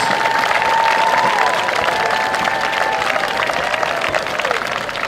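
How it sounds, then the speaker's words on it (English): A crowd at a Walker Valley football game applauds and cheers for the Mustang seniors, with steady, dense clapping held at full level for several seconds and an amplified announcer's voice heard through it. "how about a big round of applause for all of our Mustang seniors."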